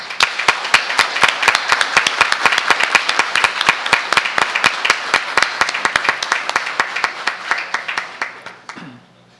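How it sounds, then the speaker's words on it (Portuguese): A crowd applauds in a municipal council chamber during a solemn session, clapping in loud, close, fairly even rhythmic beats that slow and fade out near the end. "fosse aqui feito uma salva de palmas para esta casa que reconhece essa honraria"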